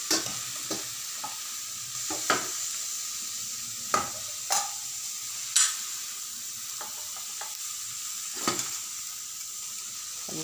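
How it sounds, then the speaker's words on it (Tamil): Okra (ladyfinger) sautés in a pan for a horse gram dal gravy, with a steady soft sizzle broken by periodic sharp scrapes of a spatula stirring, close by and without talk. "இப்படி வச்சு இதில் வதக்குனிங்கன்னா நல்லா ஈவனாக வந்து வெண்டைங்காய் நல்லா வதங்கிரும்"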